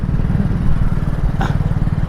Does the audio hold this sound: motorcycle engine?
yes